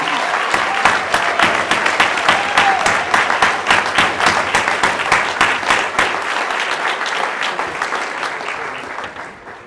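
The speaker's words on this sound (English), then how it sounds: "one more final round of applause for our new sergeants" A final round of applause for newly promoted police sergeants at a May 2015 promotion ceremony: a crowd claps steadily and loudly, with sharp, rhythmic claps standing out, before the sound thins and fades near the end.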